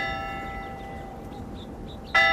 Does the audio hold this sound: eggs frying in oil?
no